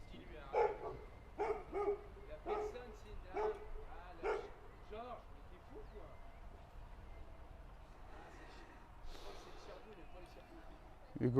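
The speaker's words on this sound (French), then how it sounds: "dogs are seeing other dogs, donc les chiens défendent le territoire" Several dogs bark near a Pilates session in La Plagne as they defend their territory, with repeated bursts of barking at mid distance in the first half and more barks near the end, under a person talking.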